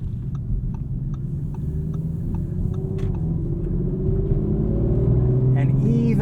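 A 2023 Audi RS5 Competition coupe with a V6, competition package and reduced front sound deadening, driving on winter tires: a low engine rumble that rises steadily in pitch, with ticking sounds, faint clicks and a driver talking over it.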